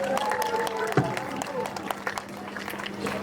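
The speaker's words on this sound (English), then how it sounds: "Let's give all our poets another big round of applause." Audience at an elocution showcase applauding the poets, a moderately loud stretch of mixed clapping and crowd noise lasting a few seconds.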